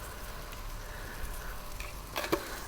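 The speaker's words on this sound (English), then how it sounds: "Just want to get a little bit of colour on these potatoes first by frying them" Potatoes sizzle quietly in sunflower oil in a pan with a soft, crackling hiss, broken by a few brief clatters near the end.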